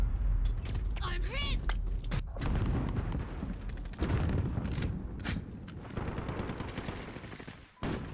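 Rapid bursts of gunfire and explosions from a shooter video game on a PS4 rattle almost continuously, loud and dense, with a brief whistling sweep early on.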